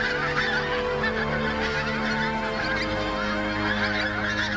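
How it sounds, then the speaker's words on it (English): Pink-footed geese honk overhead at Martin Mere, a loud, dense, continuous chorus of many overlapping calls from a large flock passing close by. "it is really heartening to see the thousands of geese in one place coming back year after year"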